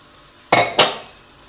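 Two quick scraping strokes of a spoon through a mixture of ingredients, including powdered flattened rice, in a frying pan, close and distinct against a faint background.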